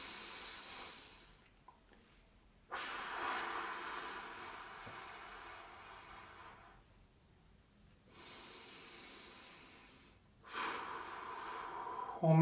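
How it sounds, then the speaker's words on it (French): Slow, deep breaths come during a seated gentle stretching exercise, heard as three long, breathy inhale-exhale cycles separated by quiet pauses, close and soft, with no talking. "3 respirations profondes par étirement"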